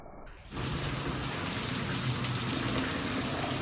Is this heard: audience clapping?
no